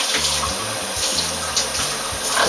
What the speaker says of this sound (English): just gonna fill my measuring cup with water